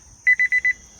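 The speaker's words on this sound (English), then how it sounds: "And there's that incessant alarm again" Four quick high-pitched electronic beeps from a ThermoWorks Smoke X barbecue thermometer alarm, evenly spaced and loud, over a faint steady background tone during a smoker cook on a homemade ugly drum smoker.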